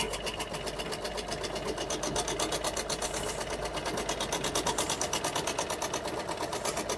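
Electric sewing machine stitching a dress, a fast, even, continuous mechanical rattle close by, running steadily without pause and with no talk.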